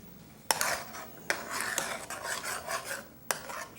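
A utensil stirs BBQ sauce for beef brisket, scraping and clinking against the pot in repeated strokes, with several sharp metallic taps. It sounds close and moderately loud, and nobody speaks.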